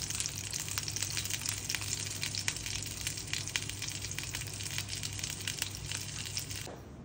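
Breakfast sausage hot dogs frying in a pan, a dense, steady sizzle and crackle with small scraping stirs, close and continuous until it suddenly cuts off near the end.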